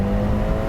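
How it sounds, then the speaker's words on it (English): Ferrari Portofino engine exhaust drones low and steady from the cabin, a continuous rumble holding level with a slight swell at the very end. "Can still hear plenty of exhaust."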